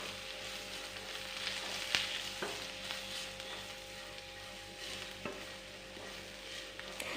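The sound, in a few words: spice powders being stirred in a pan on low flame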